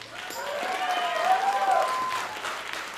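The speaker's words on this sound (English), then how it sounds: "Big round of applause for Sam." Audience applause following a school music performance, a short burst of clapping from a room of listeners, with a voice talking over the clapping throughout.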